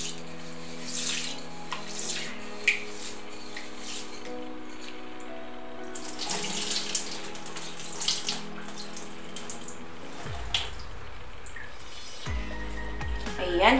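Mung beans are rinsed in water in a kitchen sink, with a tap running and water splashing steadily through most of the stretch. There are brief swishes and sloshes as the beans are stirred, and the flow fades out and returns near the end.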